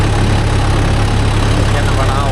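A Mahindra Yuvo Tech Plus 585 4WD tractor engine runs loud and steady close by, a continuous low diesel drone with an even rumble throughout.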